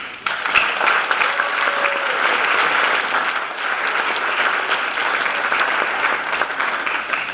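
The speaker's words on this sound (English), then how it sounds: "let's give another round of applause" A graduation commencement crowd in Cleveland gives sustained applause, a dense, even wash of many hands clapping at a moderate distance, steady throughout with no break.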